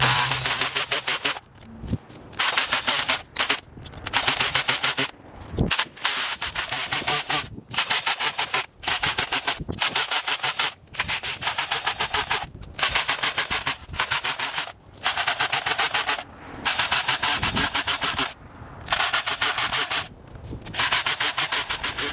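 Repeated bursts of gritty grinding as a powered auger bores into soil, each lasting a second or two, separated by brief pauses.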